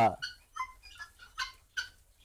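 Tithi chickens on a poultry farm give a string of short clucks, about five spaced calls in quick succession, fairly close and clear over a low background rumble.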